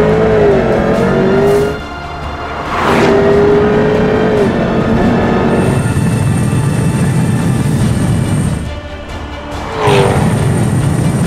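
Jaguar F-TYPE V8 sports car driving at high speed on a bumpy road, loud engine roar with rising gear-change sweeps and revving surges, two brief dips where the engine note drops before swelling back, no talk.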